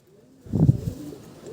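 A copper (tama) pigeon sold at a market makes a single short, soft coo close by, against a quiet background.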